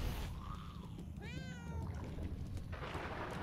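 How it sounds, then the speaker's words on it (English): A cat meows once in the video game Murdered: Soul Suspect, a short rising-and-falling cry over a steady dull background rumble, with a faint earlier mewl, no talking. "It's a kitty cat."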